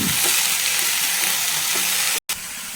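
Drumstick leaves frying in a pan while being stirred, a dense continuous sizzle with soft scraping movements, broken by one very brief cut near the end, no speech.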